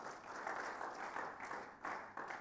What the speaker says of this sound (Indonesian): Sekali lagi boleh tepuk tangan bagi Tuhan Yesus.